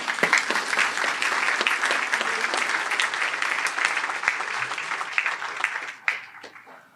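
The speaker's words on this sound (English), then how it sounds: "Please give them a round of applause." Sustained applause from attendees at a Democratic state committee voting meeting, steady clapping for about six seconds that thins out and fades near the end.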